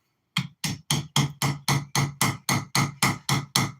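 A hammer rams black powder into a firework rocket tube with about thirteen sharp, evenly spaced whacks, loud and close after a brief silence.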